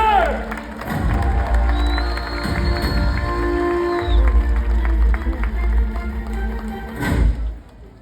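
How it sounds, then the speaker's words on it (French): A stadium crowd applauds and cheers at a team contest between rounds, a dense roar of clapping and thuds that swells, dips around the middle and surges again near the end. "Un tonnerre d'applaudissements, s'il vous plaît!"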